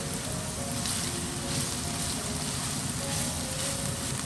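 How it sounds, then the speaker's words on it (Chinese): Doupi filling stir-fried in a pan with oyster sauce, giving a steady, loud, even sizzle of frying that carries through the whole clip without a break. "翻炒均匀后装入碗中备用。"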